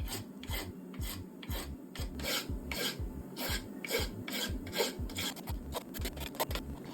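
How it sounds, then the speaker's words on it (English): Rough edges of a CNC-cut part for a DIY underwater sonar are deburred with steady back-and-forth rasping strokes, close and fairly quiet, with no voices. "I then had to deburr the edges because the CNC machine leaves a quite rough finish."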